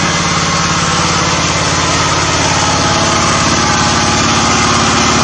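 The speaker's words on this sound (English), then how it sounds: "All it does is make engine sounds and electricity." A small engine running a homemade gasifier generator runs steadily at a loud, buzzing idle, its rapid chugging continuous and close by.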